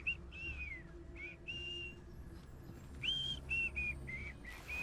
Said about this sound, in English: Guy's whistling.